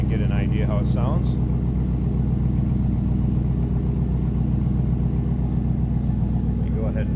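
A 1999 Chevrolet Camaro Z28 idles with a steady, close, low rumble throughout, and a voice is briefly heard near the start.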